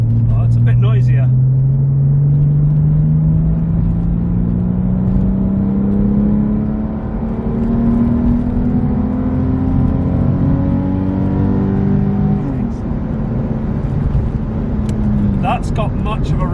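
Porsche 996 engine through a valved exhaust in loud mode, a steady throaty drone rising slowly in pitch as the car pulls along, close and loud throughout with a brief voice near the end.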